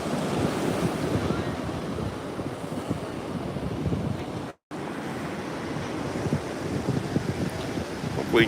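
Constant roaring surf and churning water at a breakwater inlet during a coastal flood warning from Hurricane Erin, with heavy wind buffeting the microphone, loud and continuous apart from a momentary dropout.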